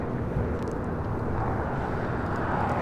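An airliner arriving from Atlanta, Georgia, on flight 2299, a steady broadband jet roar heard at moderate distance across the whole short stretch, with no voices.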